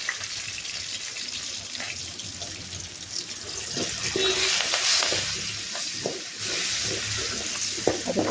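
Garlic and curry leaves fry in hot oil with mustard seeds, a steady close sizzle with crackles and stirring scrapes that swell slightly midway and continue without pause.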